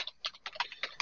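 Typing on a computer keyboard while editing text in a table, a quick run of light clicking keystrokes close up, about ten taps in uneven rhythm with no talk.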